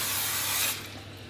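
Cooking spray hisses from a can onto a cake tin in one steady close burst of about three quarters of a second, then cuts off, leaving a faint fading tail.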